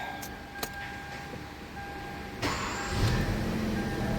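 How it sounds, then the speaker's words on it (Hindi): A 2013 Hyundai Elantra, just repaired for a number three ignition coil misfire, cranks and catches, its engine rising into a steady idle after a few faint clicks, heard close with a low rumble. "गाड़ी स्टार्ट हो गया।"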